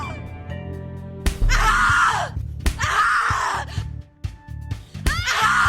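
A person in the video game The Cat Lady screams repeatedly, with three long, loud, piercing screams broken by gasps and short thuds, over a low droning background.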